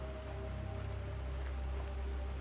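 Rain in The Planet Crafter pours down as a steady, dense hiss, continuous and even, with no voices.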